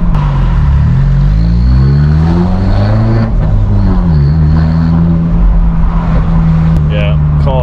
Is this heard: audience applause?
no